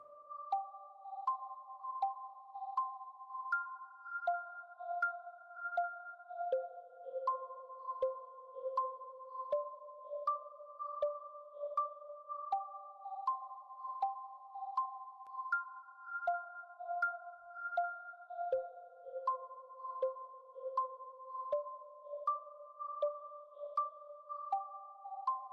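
Repeating synth melody of bright sustained notes in FL Studio, each echoed by a trailing delay, looping steadily in a mid-high register with no voices.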